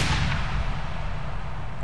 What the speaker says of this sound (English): I also have this explosion to bring out the drop even more.